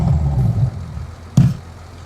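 Big Bot tractor engine in Farming Simulator 19 hitched to a seed wagon, a low rumbling drone that dips briefly and then surges with a sharp thump partway through; close and loud, with no talking.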